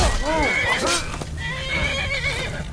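A horse in the video game Skyrim neighs and whinnies in clear, loud, wavering calls, with clip-clopping hooves and game ambience underneath and a voice briefly present.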